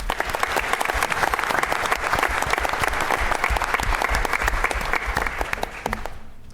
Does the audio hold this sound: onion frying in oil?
no